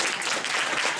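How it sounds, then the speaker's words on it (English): Audience applause at an event, a dense, steady wash of clapping filling the whole short moment with no voices over it. "Let's give them a round of applause."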